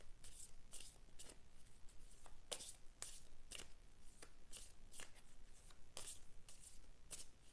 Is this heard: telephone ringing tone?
no